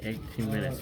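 Two bursts of close, steady rasping friction as sandpaper is rubbed back and forth over a small hard fender part of a 1/32 scale model truck, with a brief pause between strokes.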